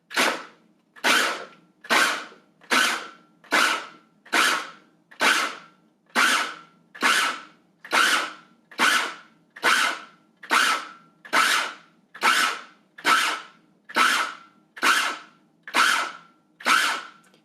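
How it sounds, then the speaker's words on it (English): A KitchenAid food chopper pulses through onions in a quick series of about seventeen short, sharp whirring bursts, roughly one per second, each separated by a brief silence. "I'll also chop the onions, so just hold down and pulse."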